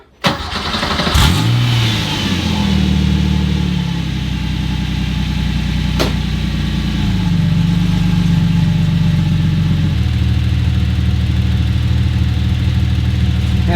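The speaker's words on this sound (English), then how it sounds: "I'm going to start it and get the car to start cycling." Subaru EZ30R flat-six swapped into a Porsche 911 cranks, catches with a rising flare, then settles into a steady, loud idle that drops to a lower, even note partway through, running alone without talk.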